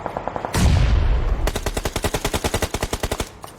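Rapid automatic gunfire bursts in a video game, loud and close, with a steady rattling rhythm of repeated shots and no talking.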